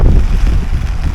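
Wind gusts buffet the microphone at an open lakeside carp fishing spot, a loud low rumbling roar that swells and eases for about a second, with no talk.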